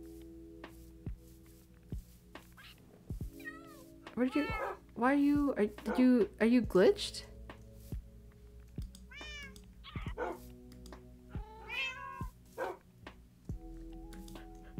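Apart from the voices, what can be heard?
cat meowing, from video game Minecraft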